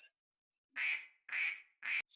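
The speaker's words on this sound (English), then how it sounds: "Wow, duck." A duck quacks three times, loud, close and nasal, each call a short buzzy burst separated by brief silences.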